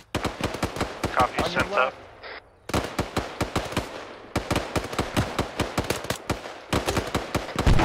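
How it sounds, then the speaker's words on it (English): Rapid automatic gunfire in ARMA 3 crackles in dense bursts of sharp shots, near and loud, with a short pause midway, while a voice speaks briefly over the firing. "We got shots close to our south."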